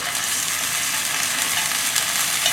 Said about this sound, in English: Preheat the skillet. Some vegetable cooking oil. Ginger and garlic in.